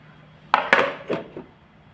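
A lid is set down on a bowl of marinating chicken with a few close, hard clinks and clatters in quick succession, then quiet.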